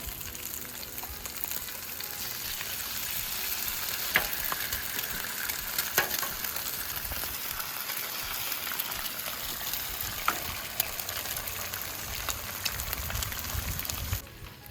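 Eggs frying in oil on a Pit Boss griddle, a steady close sizzle and crackle that runs on evenly with occasional sharper pops, no voices over it.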